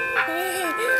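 An ice cream truck plays its tune nearby: a bright electronic jingle with a voice-like chirping melody sliding up and down, heard up close and alone.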